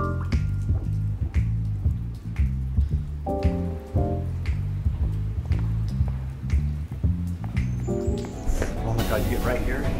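Water drips from the low ceiling of a hot, humid cave, falling in irregular, distinct drops close by while people talk over it.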